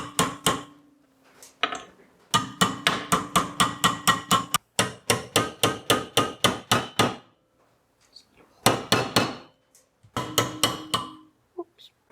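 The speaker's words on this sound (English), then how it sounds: "I'm just going to lightly tap this top bit here to make it square." Close, sharp hammer taps on bent metal held in a vise, struck in fast rhythmic runs of a dozen or so ringing blows separated by short pauses.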